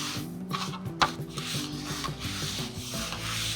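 Seasoning is rubbed by hand onto a tomahawk steak at a grill, a steady close scraping and rubbing texture with a low hum behind it.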